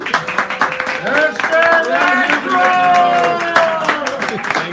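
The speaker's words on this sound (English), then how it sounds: "He's the person to get a round of applause." Audience at a café poetry reading in San Francisco claps in uneven bursts, with voices and a few tonal calls rising over the applause throughout.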